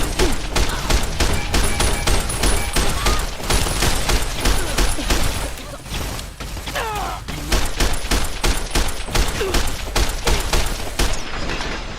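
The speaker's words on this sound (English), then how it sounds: "all of them shooting at once" Continuous heavy gunfire from several enemies in Fallout, rapid overlapping shots and impacts filling the whole stretch at high intensity with barely a pause.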